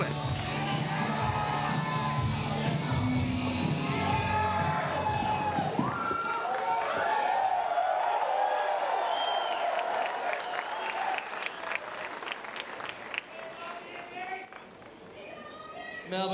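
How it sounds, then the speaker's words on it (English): A hyped wrestling crowd at a live WSW show in Melbourne, Australia roars and cheers while music plays, then thins into scattered claps and shouts as a voice carries over the noise. "Listen how electrified this crowd is here tonight."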